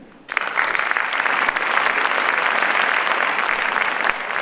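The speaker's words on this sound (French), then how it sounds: "vous pouvez l'applaudir" An audience at the closing ceremony of the 8th La Roche-sur-Yon international film festival bursts into loud, dense applause that starts abruptly and holds steady without a break.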